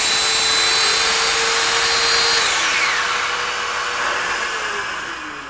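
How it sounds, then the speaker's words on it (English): A small oscillating router, a rotating-and-oscillating trim tool used on Chippendale-style woodwork, runs with a steady high whine that holds its pitch, then slides downward and fades slightly as it spins down. "So it's a little router that oscillates."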